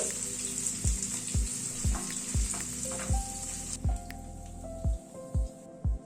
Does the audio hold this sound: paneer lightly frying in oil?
yes